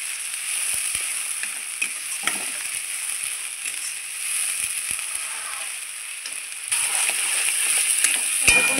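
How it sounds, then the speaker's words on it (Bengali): A paste of onion, garlic and chilli fries in a pan while being stirred, making a soft, continuous sizzle with light scraping strokes, fairly quiet and unaccompanied by talk. "আমি মশলাটা একটু নাড়চাড় করে নিলাম"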